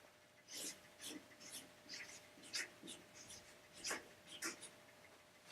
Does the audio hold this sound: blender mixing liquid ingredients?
no